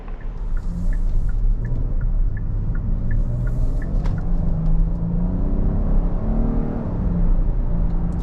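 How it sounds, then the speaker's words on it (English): A 2024 Kia Carnival minivan sets off on a test drive, its engine rumbling low and accelerating smoothly under a steady road whir, heard from inside the cabin with a few faint ticks early on and no talk. "here we are setting off in the Kia Carnival"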